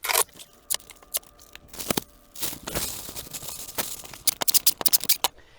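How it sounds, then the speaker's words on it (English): Crinkly plastic rustling and scratchy handling sounds in irregular bursts, close up, with brief quiet pauses between movements. "So I'm just gonna do a quick bubble wrap around it"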